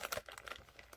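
A flat cardboard pigment container is folded into shape, giving quick, close crinkling and crumpling crackles in a short burst of scattered clicks.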